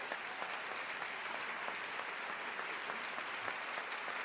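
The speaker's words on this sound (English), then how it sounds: "Would you please give her a round of applause?" Steady applause from a large audience, dense continuous clapping filling the room without pause.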